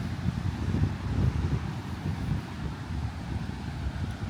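Steady wind buffets the microphone on a grey, overcast beach with small dunes, producing a continuous low rumble and rough broadband rush with no voices.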